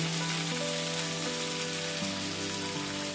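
Cauliflower and beetroot fry in a pan with a steady, dense sizzle, loud and continuous, with faint tonal hum lines running beneath it.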